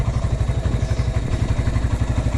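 A 1997 Honda GL Pro Neotech motorcycle with its original exhaust runs at idle. It makes a steady, close, low thumping pulse with a fast even rhythm and light mechanical clatter on top.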